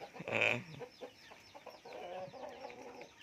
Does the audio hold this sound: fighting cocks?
yes